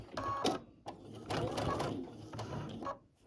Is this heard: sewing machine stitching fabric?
yes